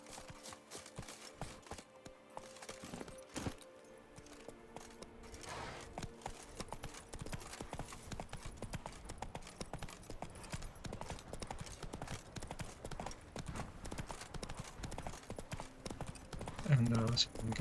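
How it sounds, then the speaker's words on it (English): Horse hooves clip-clop steadily through a video game world as a called mount trots in, the rhythmic footfalls running for many seconds under game sounds and a speaking voice. "Maybe we'll call our horse out."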